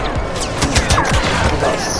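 Gunfire hits the player in a Star Wars Battlefront match, a loud, dense burst of blaster shots and impacts crackling over busy game noise in a short rapid flurry.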